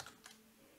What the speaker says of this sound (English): So I type in